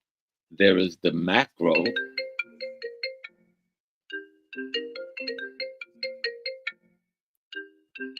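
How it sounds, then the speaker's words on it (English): A phone ringtone plays a repeating series of bright electronic tones in short bursts, heard right after a man's speech and continuing on its own with brief pauses. "That was a phone thing."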